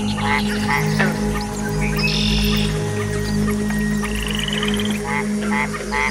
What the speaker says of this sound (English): To attract a female, the Mexican white-lipped frog makes a series of chirping sounds.